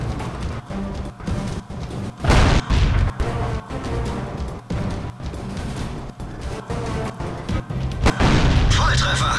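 Heavy tank cannon shots in the World of Tanks video game, several loud booming blasts with longer gaps between them over a rumbling, crackling battle background.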